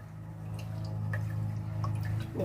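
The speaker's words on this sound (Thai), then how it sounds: "ปล่อยให้น้ำในตะกร้าเราหยดออก" Water drips from a basket of soaked mung beans being sprouted, with sparse, faint drops falling over a steady low hum.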